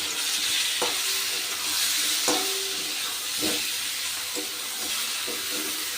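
Turmeric powder with ground ginger and dried chili paste sizzling and frying in a pan, a steady close hiss with occasional scraping stirs of a spatula.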